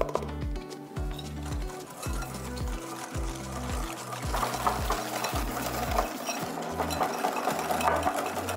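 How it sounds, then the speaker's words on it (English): Egg yolks and sugar are whisked briskly for pastry cream, giving a steady, repetitive scraping and clicking against the bowl in a fast rhythm, close and continuous with no talk. "As soon as you put the sugar with your egg yolks, you have to whisk"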